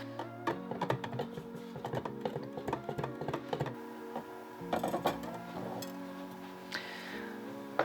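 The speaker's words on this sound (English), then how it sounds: "I'm going to use my hand whisk to try and get these oils to emulsify with the lye" A hand whisk clicks and taps rapidly in a bowl of soap oils mixed with lye, a busy rhythmic rattle over a steady tonal hum, fairly quiet and close.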